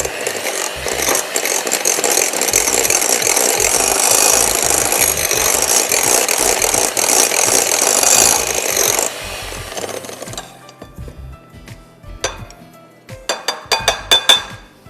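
Melted butter and chocolate are mixed vigorously in a bowl for a coffee chocolate lava cake, a loud, continuous close scraping and rattling that stops abruptly, followed by a few sharp clinks.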